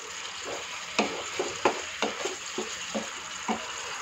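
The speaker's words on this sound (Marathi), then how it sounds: "आपली उकळी यायला लागलेली आहे" Chicken biryani gravy simmers and sputters in a pot with a steady bubbling hiss, broken by several sharp spoon knocks against the metal as it is stirred, close and moderately loud.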